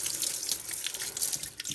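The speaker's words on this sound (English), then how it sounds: "I've got a sink full of soapy water, ready to wash the dishes." Water runs steadily from a kitchen tap into a sink filling with soapy water for washing dishes, a constant close hiss and splash with no talking.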